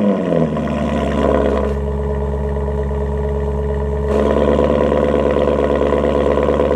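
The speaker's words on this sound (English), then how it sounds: "Oh, it's got a beautiful and aggressive exhaust note." A Maserati GranTurismo MC in sport mode rumbles loud and close, its engine and exhaust holding a deep, steady drone with two quick shifts in pitch and intensity, and no voices over it.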